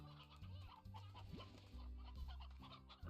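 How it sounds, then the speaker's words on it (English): Chickens cluck repeatedly inside a ranch coop in the Slime Rancher video game, a busy overlapping chorus of short clucks over a steady low game hum, with no talk. "there are more chickens in here"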